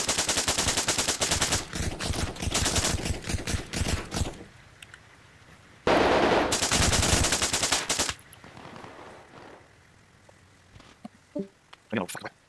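Rapid automatic gunfire from a rifle in Arma Reforger rattles in two long, loud bursts, separated by a quieter gap, then trails off into a few scattered single shots and faint noises.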